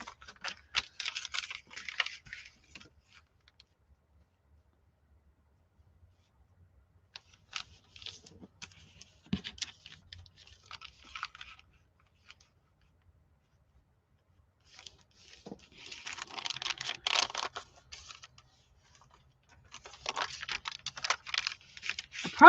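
Crisp paper is handled and folded for a journal, giving dry crinkling and rustling in scattered bursts with quiet gaps, close and soft, with no talking.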